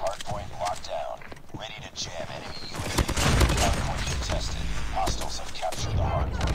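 Rapid bursts of submachine gun fire from the Renetti burst SMG in Call of Duty Mobile, loud and close over dense game noise, with a player's voice talking over the shooting.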